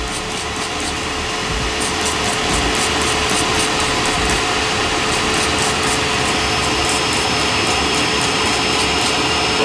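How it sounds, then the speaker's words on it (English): Air blower forcing air through the exhaust pipes of a boosted Nissan 370Z Nismo during an exhaust leak test, a loud, steady broadband roar that holds unchanged for the whole stretch with no talking. "turn it on, of course, it's gonna blow air through the pipes"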